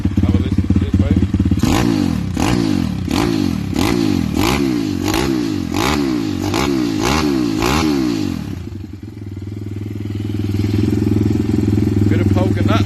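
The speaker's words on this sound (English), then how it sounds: "Give the engine a rev so you can hear it." A CW190 pit bike with a big engine revs hard and close, with a run of rhythmic throttle blips stacking up before it drops back to a rough, steady idle.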